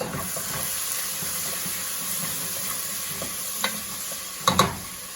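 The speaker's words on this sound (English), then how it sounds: "Stir that up a little bit." Food being stirred in a pot on a kitchen stove, a steady soft sizzle and hiss with a spoon scraping now and then and a couple of sharper clinks near the end; no talking.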